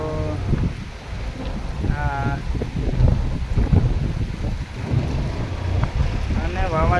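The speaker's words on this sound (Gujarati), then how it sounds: "જોડા સાથે વરસાદ છે એટલે રોકાય તેમ નથી" Heavy monsoon rain driven by strong wind pours down over flooded fields, a dense continuous roar and gusting buffet at close range, with a voice speaking intermittently over it.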